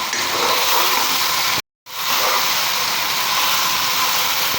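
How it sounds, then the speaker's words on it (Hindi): Chicken keema mince with coriander and green chilli frying in a pan, a loud steady sizzling hiss that breaks off briefly and then resumes just as strongly. "अब इसको अच्छे तरीके से भून लेंगे।"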